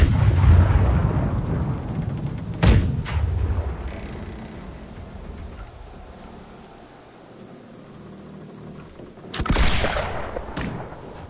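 Booming video-game ship cannon blasts fired from the left side ring out, a few heavy shots spaced apart over a steady rainy hiss, each with a sharp crack and rolling decay.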